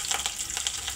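Curry leaves and cumin crackle and sizzle in hot tempering oil, a bright, steady frying hiss with quick pops through one short burst.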